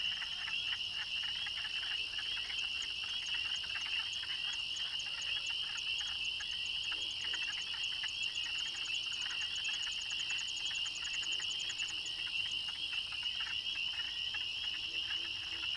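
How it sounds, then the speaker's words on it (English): Spring peepers and wood frogs calling together at a breeding pond in early April, a dense, continuous chorus of high repeated peeps over a steady trilling and clucking bed, loud and unbroken throughout. "the other peeping sounds are those of the spring peeper, another species of frog that breeds in ponds and lakes."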